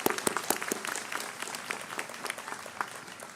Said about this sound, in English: Okay, we can clap for her.